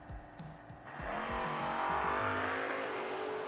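Two drag cars, a 1989 Mustang and a 1984 Monte Carlo, launch at a drag strip: a loud, sustained engine roar rises abruptly and holds steady, with gear-like pitch sweeps underneath.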